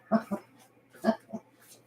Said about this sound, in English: This is his first litter of puppies